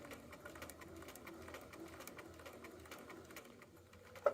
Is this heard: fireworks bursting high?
no